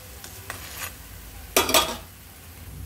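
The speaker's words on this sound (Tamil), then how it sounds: "இதில் நம்மளோட பரோட்டாவை வச்சிடலாம். இது 1 மினிட் அப்படியே வேகட்டும்" Paratha cooking on a hot pan gives soft scraping and stirring clinks, then a sudden burst of sizzling as it is set down or pressed, fading to a quiet background.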